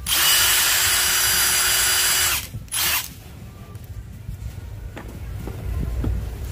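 A Milwaukee M18 cordless impact wrench whirs loudly and steadily for about two seconds, stops briefly, gives a short second burst, then falls quiet, leaving faint background noise.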